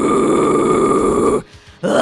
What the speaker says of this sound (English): The false chord scream, just to review, sounds something like this.